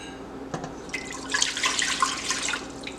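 Water pours into a pan on a stovetop while preparing churro dough, a steady splashing stream that swells after a brief knock and runs on to the end.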